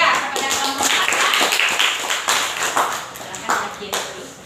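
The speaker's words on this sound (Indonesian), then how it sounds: "kita beri tepuk tangan dulu ya kepada kelompok kita" A class claps their hands for a student group, a dense run of sharp hand claps continuing throughout at close range, with some talk mixed in.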